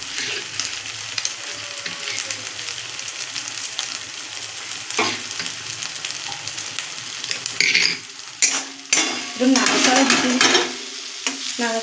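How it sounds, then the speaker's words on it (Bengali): Egg is stirred into daliya in a hot frying pan, giving constant close scraping and crackling over a steady sizzle, with louder, busier spatula strokes toward the end. "এরকম মানে কন্টিনিউ নাড়াচাড়া দিতে থাকবে"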